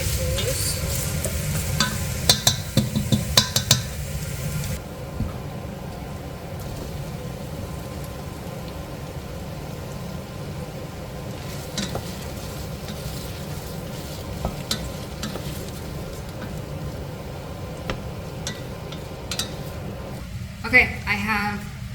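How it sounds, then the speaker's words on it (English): Potatoes tipped into a hot soup pot for chicken vegetable soup, with a steady close sizzle and frying hiss, repeated stirring scrapes and a few clacks and knocks running throughout. "I'm going to add in my potatoes"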